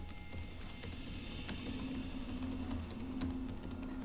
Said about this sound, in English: Are you just typing it?